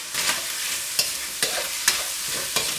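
Beef stir-fried in a wok with soy sauce and sesame oil hisses in a continuous close sizzle, punctuated by sharp scraping strokes of a spatula about every half second, with no talking.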